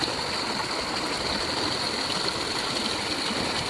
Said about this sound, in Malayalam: ഇപ്പം അത്യാവശ്യം നല്ല മഴയായതുകൊണ്ട് തന്നെ തോട്ടിലൊക്കെ അത്യാവശ്യം നല്ല വെള്ളം കയറിയിട്ടുണ്ട്.